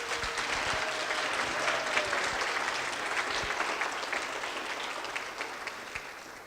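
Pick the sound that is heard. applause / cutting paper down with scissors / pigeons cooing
applause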